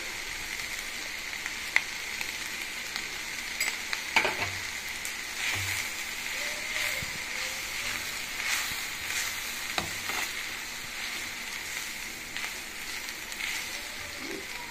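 Moringa leaves fry in a pan with coconut powder, lentil powder and chilli, giving a steady soft sizzle with occasional spoon scrapes and clinks as they are stirred.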